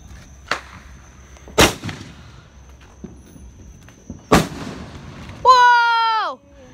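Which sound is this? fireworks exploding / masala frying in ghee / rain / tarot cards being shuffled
fireworks exploding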